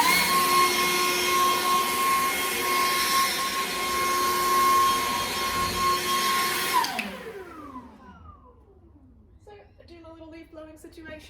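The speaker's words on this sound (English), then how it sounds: "Just as I'm finishing turning off the leaf blower" A leaf blower roars steadily and loud up close, then winds down and shuts off, its pitch sliding lower as it stops, leaving quieter background sound with some faint clatter afterward.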